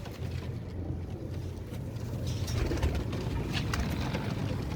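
Soft cooing of red-eyed pigeons over a steady low background hum, the calls close by and continuous without any talking.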